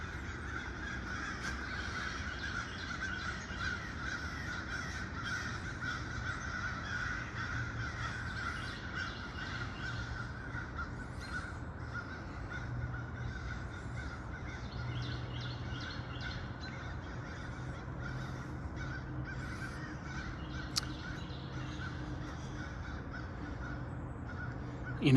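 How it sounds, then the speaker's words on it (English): Crows caw repeatedly in a park, harsh calls coming and going at moderate distance over a steady outdoor background hum, with no talking. "every time I see crows"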